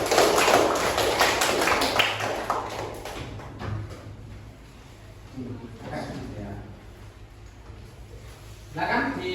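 Applause from a classroom audience for group 3 at a teacher-training session, a dense burst of clapping that is loudest at first and then thins out, with voices murmuring underneath and a short rise again near the end.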